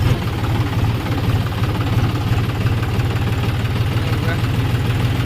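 A tractor engine chugs steadily at close range at a flooded river crossing, a loud low rhythmic thumping that continues without a break.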